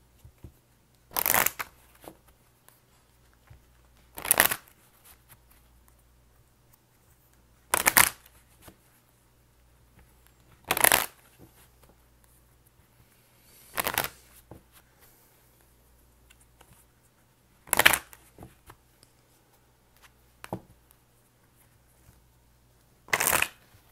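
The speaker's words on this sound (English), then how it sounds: "let me go ahead and shuffle some love cards" Tarot cards are shuffled in seven short, crisp riffling bursts spaced about three seconds apart, close and clear against a quiet room with a faint low hum.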